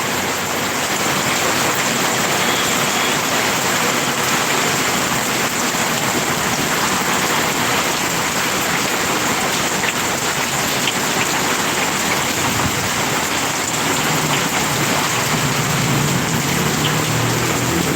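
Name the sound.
heavy rain during a typhoon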